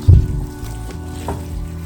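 Cilantro is stirred into a sizzling burrito filling in a hot pan. A soft thump is followed by a steady crackling fry and occasional scraping of the spoon, close by and alone.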